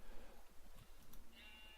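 Sheep in the Minecraft video game give a couple of soft, wavering bleats that sit low in the mix, followed by a brief higher electronic tone near the end.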